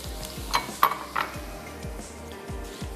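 Cabbage and capsicum frying in a pan, with a continuous soft sizzle beneath a few light scrapes and clinks of a utensil stirring against the metal.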